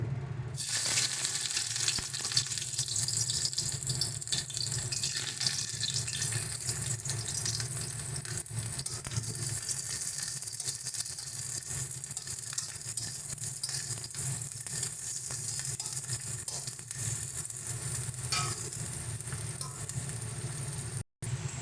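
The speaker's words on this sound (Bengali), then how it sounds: "পেঁয়াজটা ভাজা হোক" Onions sizzling in hot mustard oil in a wok, a steady close crackling hiss that runs without a break for about twenty seconds, with no speech.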